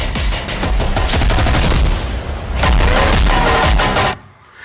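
Simulated blasts and rapid gunfire at a security forces demonstration during a VIP carcade drill, a loud, continuous barrage of overlapping shots and booms lasting several seconds before cutting off abruptly.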